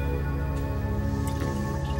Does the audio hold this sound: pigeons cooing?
no